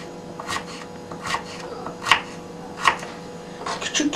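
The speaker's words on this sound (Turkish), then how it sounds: "küçük küçük doğruyoruz." Squash being chopped into small pieces with a knife, heard as sharp, irregular knife strikes on a board, about six distinct chops spread over a few seconds against a quiet background.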